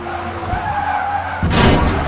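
Race car in Le Mans Ultimate sliding into a skid with tire squeal, then a sudden loud crash impact about two-thirds through, engine drone running underneath.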